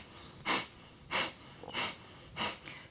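Four slow, deep exhalations during a tai chi flow, each a soft breathy rush close to the ear, spaced evenly about two-thirds of a second apart with quiet between them.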